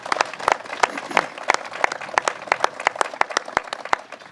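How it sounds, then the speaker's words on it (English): Audience applause for Dr. Chris Gobler at a New York event on Long Island's brown tide, a steady burst of many hands clapping with sharp individual claps standing out, loud and continuous throughout with no voices. "So let's give him a round of applause."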